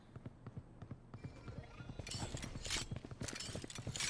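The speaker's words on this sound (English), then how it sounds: "Australis is going to hear the footsteps of the decoy" Footsteps in the video game Rainbow Six Siege, a rapid run of rhythmic thudding steps that grows louder in the second half over game ambience.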